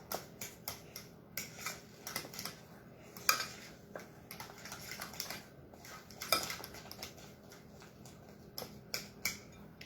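Fork clinking and scraping against a bowl while mixing a creamy Easter dish, a steady run of small metallic taps and scrapes, fairly close and moderately quiet, with no talking.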